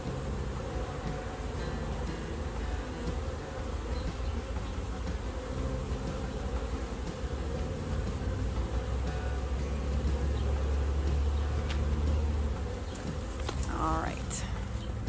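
A honey bee swarm buzzing in a tree, a dense continuous hum close to the microphone, with a low droning layer underneath and a few sharper sounds near the end.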